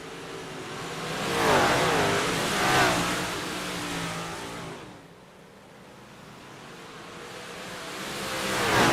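Big-block race car engines roar around the Kokomo Speedway dirt oval, revving up and fading as they pass in two loud surges before climbing again, with no talk over them.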